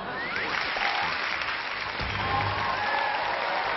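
A studio audience on a Chinese television dating show claps in a steady, dense wash of applause that holds even and fairly loud for a few seconds, with no talk over it.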